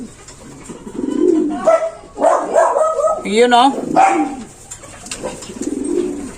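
A racing pigeon coos in soft, warbling bursts nearby, with a person talking briefly over the calls.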